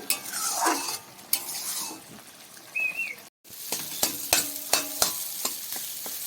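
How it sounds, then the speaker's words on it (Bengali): Lote fish frying in a pan on high flame while being stirred, a steady sizzle broken by repeated sharp scrapes and clinks of a utensil against the pan, fairly close and alone. "বারবার একটুখানি নেড়ে নিতে হবে যাতে তলায় না লেগে যায়"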